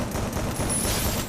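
Rapid gunfire from a shooting video game, a dense continuous burst of shots that fills the whole moment at steady loudness, with no talk over it.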